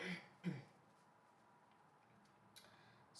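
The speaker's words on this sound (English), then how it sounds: "Sorry for the coughing there" A couple of quiet coughs or throat clears, one near the start and a softer one later, in an otherwise hushed room.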